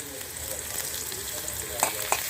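Chopped onion and garlic fry in oil for a red amaranth greens dish: a bright, steady sizzle broken by light stirring scrapes and a few small clinks near the end.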